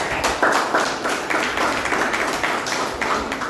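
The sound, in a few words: club members applauding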